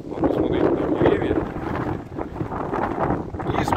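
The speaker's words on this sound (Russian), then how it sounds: "Ветерок-то, если честно, сильный." Strong wind sweeping a sandy beach with dunes at Anapa on the Black Sea coast in September, a continuous loud buffeting rush with gusts hitting the microphone and a voice faintly underneath.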